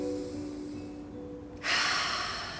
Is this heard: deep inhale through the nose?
yes